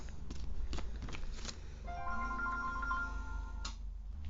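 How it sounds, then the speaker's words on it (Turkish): A phone rings with a melodic electronic ringtone of sustained tonal notes beside a nose hair trimmer setup, following some shuffling and handling noises, then stopping abruptly. "Evet telefon çaldı ona baktım"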